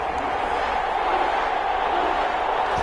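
A stadium crowd in the Superdome roars steadily in an NFL video game as the Carolina Panthers and New Orleans Saints prepare to kick off, a loud, continuous wash of cheering.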